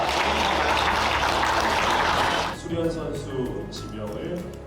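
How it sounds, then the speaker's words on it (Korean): Big crowd applause rolls through a KOVO men's rookie volleyball draft venue, loud and sustained at first, then cutting off sharply midway, leaving quieter room sound and a faint voice over the hall. "큰 박수 부탁드립니다."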